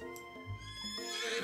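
A horse whinnies in a loud, close, drawn-out neigh lasting over a second, rising and falling in pitch with faint hoof clatter beneath.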